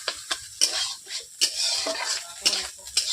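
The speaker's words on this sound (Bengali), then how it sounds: "ডিমগুলোকে আমি ছোটো ছোটো ভিজার মতো ভেজে নিচ্ছি দেখতেই পাচ্ছেন এইভাবে আমি ভেজেই নিচ্ছি" Beaten eggs frying in a pan for egg chowmein, broken up into small scrambled pieces, give a soft sizzle broken by quick, sharp spatula scrapes and clinks against the pan, close and clear with no talking.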